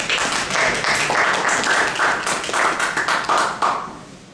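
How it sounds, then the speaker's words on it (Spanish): A small class at a labor-law session claps for Rosita, a short burst of close hand clapping that holds steady for about four seconds before trailing off. "Un aplauso para Rosita"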